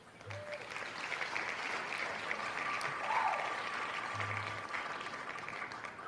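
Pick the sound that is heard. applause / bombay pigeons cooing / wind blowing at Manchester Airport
applause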